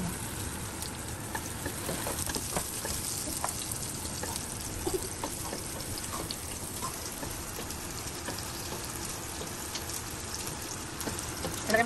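Garlic, onion and ginger fry in a pan for tinola, a soft, continuous crackling sizzle with scattered pops, heard close but fairly quiet and with no talking.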